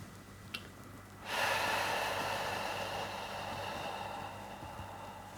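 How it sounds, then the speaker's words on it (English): A cleansing breath: one long, airy exhale blown out through pursed lips, soft and close, following a short intake, with no talking. "filling the lungs all the way to the top, and then blowing out through a pinhole through the lips"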